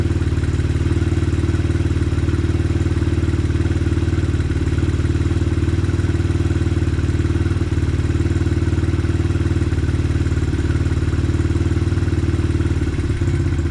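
A Honda XR 100 motorcycle with a swapped-in Amazon carburetor idles loudly and steadily up close. The engine drones with an even rumble and near the end begins to falter as if about to die.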